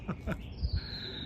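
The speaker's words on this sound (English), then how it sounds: "it sounds like that bird is laughing. That's a funny noise." A bird gives a rapid series of short, chuckling, laugh-like notes followed by a thin sustained whistle, heard close and brief against a quiet outdoor backdrop.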